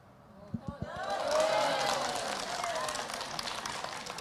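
A few sharp claps ring out, then an audience at an Islamic talk joins in with a swell of clapping and murmuring voices that rises and settles into sustained, moderately distant applause.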